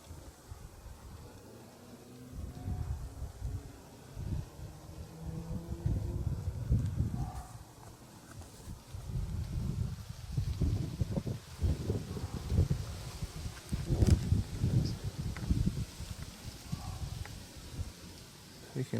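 Wind gusting outdoors at night, a rough, buffeting rumble that rises and falls irregularly in gusts, growing stronger toward the end, with some rustling.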